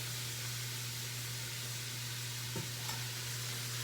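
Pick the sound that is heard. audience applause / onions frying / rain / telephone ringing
onions frying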